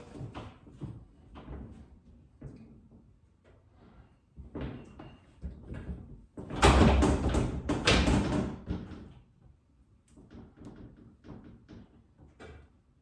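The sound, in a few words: glass sliding shower door being fitted onto its track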